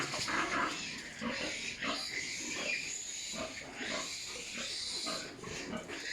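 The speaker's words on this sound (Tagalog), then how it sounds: "yan po yung mga biik na sumususo pa lang dito sa farm ni Ma'am Helen" Suckling piglets on a farm make continuous squeals and grunts close by, a busy overlapping chorus of high-pitched cries that holds steady throughout.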